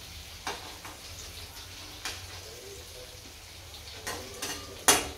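Taro leaf rolls (alu vadi) fry in oil with a faint, continuous sizzle, broken by a few utensil taps and scrapes. A sharp metallic clink comes near the end.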